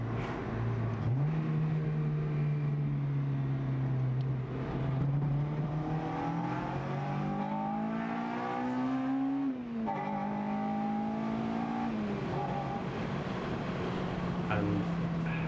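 A Honda Integra Type R DC5 engine revs and pulls through the gears, pitch climbing steadily then dropping at a shift and rising again, heard from inside the car.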